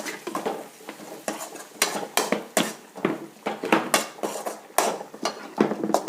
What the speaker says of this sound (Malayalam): നന്നായിട്ടൊന്ന് മറിച്ച് കൊടുക്കാം.